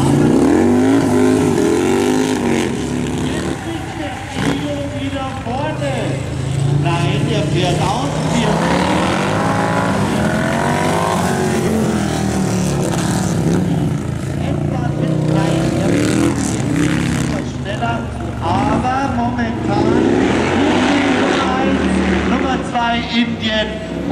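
Bagger motorcycles, a BMW and a Harley-Davidson among them, racing around a curve at the Ampfing track in Germany, engines revving loud and continuous under a race commentator's talk.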